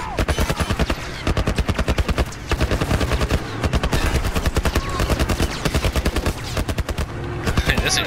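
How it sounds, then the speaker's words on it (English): Rapid automatic gunfire from The Last of Us video game, with dense, loud bursts rattling almost continuously for the whole stretch and only brief gaps between volleys. "This guy sucks at shooting."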